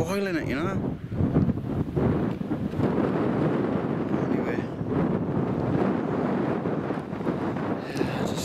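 Strong wind buffets the microphone on the open Northumberland coast during a wild camp, a loud continuous roar with gusts that rise and fall and do not let up across the whole stretch.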